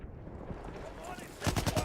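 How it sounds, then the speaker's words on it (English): Rapid bursts of machine gun fire from a Battlefield 1 battle, a short loud volley of evenly spaced shots at the end, with a voice talking just before it. "There's a machine gun!"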